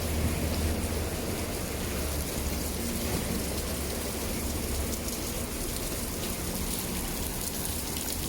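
Steady rain falls continuously in Makkah, Saudi Arabia, a dense hiss of drops on surfaces with a low rumble underneath, no voices.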